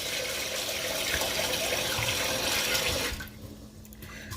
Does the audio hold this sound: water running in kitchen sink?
yes